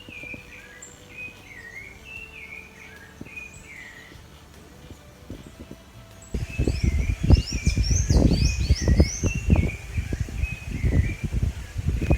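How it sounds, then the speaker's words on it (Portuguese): Sanhaço and sabiá birds sing repeated clear whistled phrases outdoors, at first quietly over a calm background, then with strong gusting wind roaring and buffeting beneath the birdsong. "Só o vento, um sanhaço e um sabiá."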